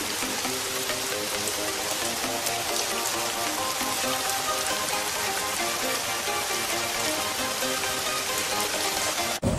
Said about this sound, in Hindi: तब तक बहुत ही मजेदार बारिश आ गई